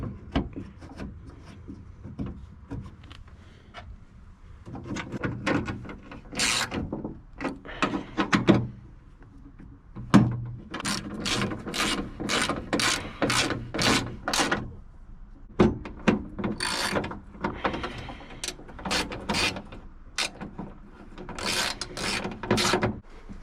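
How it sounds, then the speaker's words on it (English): A hand ratchet tightens bolts on a Honda Civic window regulator, giving repeated short bursts of clicking strokes with clunks and rubbing of metal parts in between, close and fairly clear with no talk. "Start putting the bolts back."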